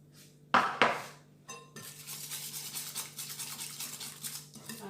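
Salt and pepper being mixed into a vegetable quiche filling, with two sharp clinks of a utensil against the bowl, then a steady scraping and stirring that continues close up.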